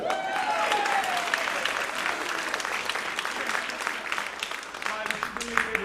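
A theater audience at a vaudeville show at the Darress Theater in Boonton, New Jersey breaks into applause, a dense sustained clapping that fills the room, with a few voices and whoops rising through it.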